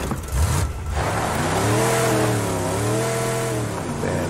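Vehicle engine in the video game Rage 2 revving and holding a steady, loud drone, its pitch rising and wavering slightly as the car accelerates, with no voices.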